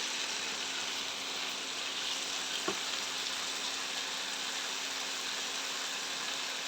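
Potatoes with dried fesa fish and coriander fry quietly in a pan, a soft, even sizzling hiss throughout with one brief click.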